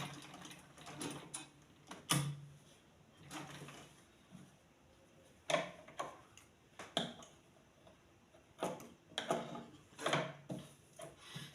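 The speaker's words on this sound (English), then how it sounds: "Now see my needle, and it's sewing backward." A domestic sewing machine stitching in reverse to back stitch, heard as a series of short, irregular mechanical rattling bursts with brief pauses between them, close by and with no talking.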